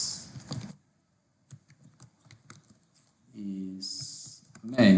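Someone types on a computer keyboard while working in Microsoft Word. The keystrokes come as a light, close, irregular patter, and a voice talks at the start and again near the end.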